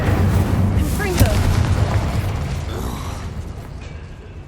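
A Confringo spell in Hogwarts Legacy erupts as a short, sharp boom early on, amid dense, rumbling mechanical game ambience with a voice briefly speaking.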